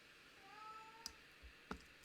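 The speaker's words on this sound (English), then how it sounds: "my other cat" A house cat gives a faint, drawn-out meow in a quiet room, with two sharp clicks around it and no one talking.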